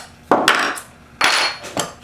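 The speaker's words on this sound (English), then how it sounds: "tap it out with a hammer." A hammer taps a pin punch to drive out the trigger pin of a Benelli-style semi-automatic shotgun trigger group, two pairs of sharp, close metallic knocks, each pair a quick double strike, loud and alone.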